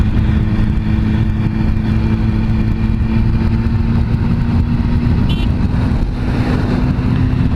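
Motorcycle engine droning steadily at speed while riding, a loud continuous hum with wind rush and no break throughout.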